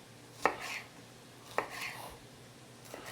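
A knife cuts peppers into long strips for lo mein on a cutting board, giving three sharp, well-spaced chops that are close and crisp, with quiet pauses between them.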